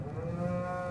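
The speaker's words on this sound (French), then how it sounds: "Une trentaine de vaches à viande de race destinées à la boucherie, des charolaises et des ménanjous." Charolais and other beef cattle low steadily on a farm, a single sustained moo held close and loud for about a second with no talking.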